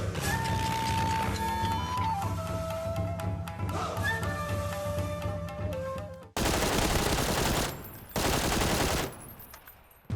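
Loud bursts of rapid automatic gunfire from PUBG: Battlegrounds, layered over tonal game music, then dense blasts of shooting in separate bursts.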